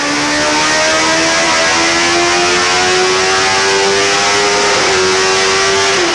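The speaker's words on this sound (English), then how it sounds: "Just listen to that horsepower screaming out of the exhaust." A 2001 Suzuki GSX-R1000 sportbike engine screams steadily at full throttle onto the limiter at 12,800 RPM, pitch climbing slowly then dropping near the end, loud and continuous.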